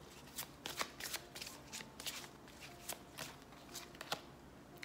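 Oracle Belline tarot cards are shuffled close up in a steady run of soft, papery riffles and snaps. No one speaks.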